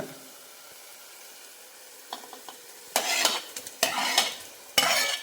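Prawns fry and sizzle in a pan with ginger garlic paste for a biryani, starting quiet, then loud bursts of stirring and scraping with hissing, several vigorous strokes in a row.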